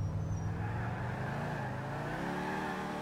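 A car engine drones steadily as it drives in the video game GTA IV, a continuous moderately quiet motor sound with shifting pitch and no talking.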